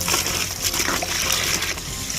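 Water poured onto an absorbent toy gives a close, steady trickle and splatter that continues throughout without pause.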